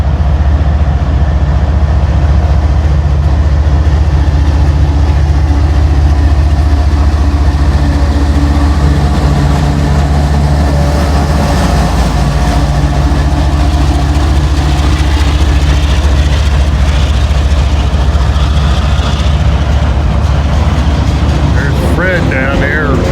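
A freight train, NS or CSX, rolls slowly along the track near a rail yard, producing a loud, continuous low engine drone with steady rumbling and faint metallic squeals throughout.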